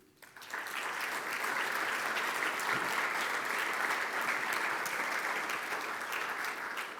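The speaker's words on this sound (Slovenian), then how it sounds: "predsednik komisije Matej Stres, ki mu bomo le zaploskali" Audience at an innovation awards ceremony breaks into applause, a dense burst of many hands clapping that starts abruptly and holds steady and loud throughout, with no talking over it.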